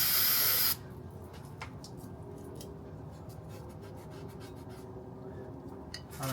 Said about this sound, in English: Get a little brake cleaner in here and get her cleaned out.